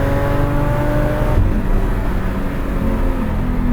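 Datsun 280Z engine revving hard after a downshift into fourth gear, a loud, close, continuous roar heard from inside the car with no talk.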